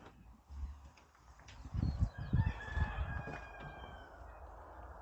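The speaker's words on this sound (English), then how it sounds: "So good morning to the cockerel" A cockerel crows outdoors in a garden, one long drawn-out call of moderate loudness over a low background rumble, with faint birdsong higher up.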